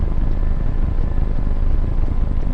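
A model plane built from two sets of quadcopter motors and parts runs at full throttle, a loud, steady buzzing roar with wind rush, close and unbroken from start to finish.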